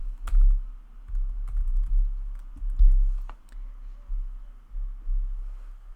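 Typing on a computer keyboard while building a website, with soft, close key clicks in uneven bursts and a low background hum.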